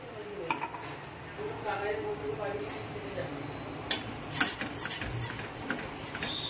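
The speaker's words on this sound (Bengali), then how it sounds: "এবার আমি দেখো ভালো করে মিক্স করে দিচ্ছি" A pot of sugar and a little water is stirred into a light syrup, with scraping spoon strokes and a few clinks against the metal. A person talks at intervals over the stirring.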